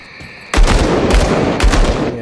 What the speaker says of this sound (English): shots are getting faster